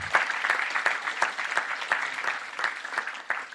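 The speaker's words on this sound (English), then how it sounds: "Let's give a big round of applause to everyone" An audience at a scientific conference session applauds steadily, with dense, sustained clapping that carries evenly from start to finish.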